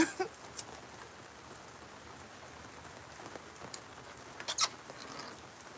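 Steady rain falls outside in a soft, continuous patter, fairly faint, with a few sharper drips and taps standing out now and then.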